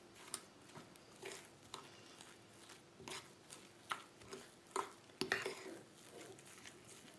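A spoon clinks and stirs in a bowl, mixing salt, ginger, turmeric and pepper for vegan potato gnocchi, faint irregular taps and scrapes at close range with no talking.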